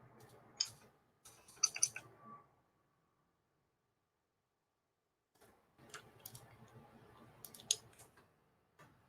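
Keys on a computer keyboard are typed into a code editor in short, quiet bursts of clicking, separated by a few seconds of silence.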